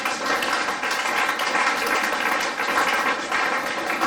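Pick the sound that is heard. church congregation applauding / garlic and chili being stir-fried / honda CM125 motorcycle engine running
church congregation applauding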